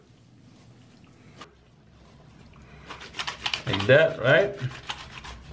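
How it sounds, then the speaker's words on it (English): Soapy hands scrub a merino wool shirt, quiet at first and then a run of close, wet rubbing strokes under a speaking voice. "You scrub them."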